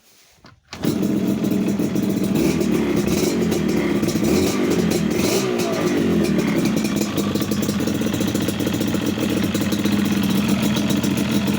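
A rebuilt Candy LC motorcycle engine starts after a brief quiet moment, then runs loud and close with a steady rattling idle and a slight rise in revs midway, no talk.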